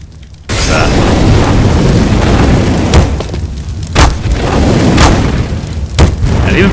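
A Molotov burning in Counter-Strike on the Cache map, a loud continuous roar of flames that starts abruptly and keeps going, broken by several heavy booming thumps at roughly one-second intervals.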